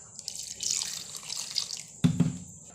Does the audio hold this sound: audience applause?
no